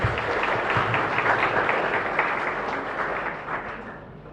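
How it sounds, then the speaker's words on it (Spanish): A church congregation applauds at the close of a Mass in a chapel, a warm burst of many hands clapping that gradually fades over a few seconds. "Un fuerte aplauso a todos."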